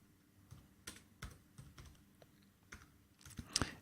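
Computer keys tapped in short irregular bursts, quiet and close, with a sharper cluster of clicks near the end and no voices.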